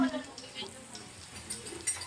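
Eggplant fries in a pan in a home kitchen, giving off a soft, steady sizzle with faint crackles and light stirring, heard close but quietly.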